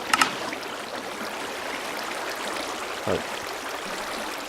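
Flowing water in a Minecraft mob grinder makes a steady, even rushing wash from start to finish, with a short sharp click at the start and a soft thump near the end.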